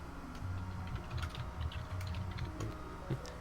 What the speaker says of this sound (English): You can hear your keyboard typing there, Zelda.